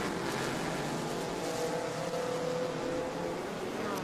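Race cars including a modern Corvette C6 and Porsches in a feature race at the Indianapolis Brickyard, a steady, dense engine roar with a faint rising whine and no clear pass-by.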